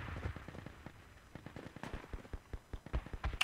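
Gunfire from a firefight in the military shooter Project Reality, with sharp scattered shots and bursts, some distant and some closer, that grow louder and denser toward the end.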